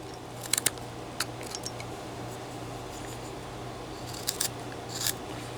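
A whittling knife cuts away at a small carved wooden figure near the feet, giving faint, sparse scraping clicks in short clusters over a low steady hum.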